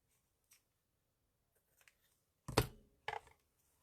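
Scissors snip the ends of a ribbon while trimming a handmade paper card: a few sharp, close cuts, with two louder snips near the end, heard against near silence.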